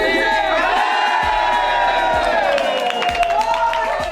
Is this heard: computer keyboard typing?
no